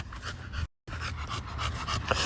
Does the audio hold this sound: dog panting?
yes